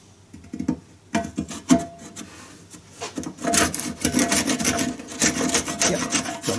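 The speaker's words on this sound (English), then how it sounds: "I'm just going to run the handsaw through it a few times" A handsaw rasps back and forth through wood, irregular strokes starting sparse and faint, then becoming a dense, louder run of close sawing.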